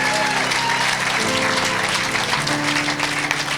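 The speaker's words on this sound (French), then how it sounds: "Acclamez pour vous-même." A church congregation at a Sunday service applauds loudly and continuously, with voices mixed into the clapping.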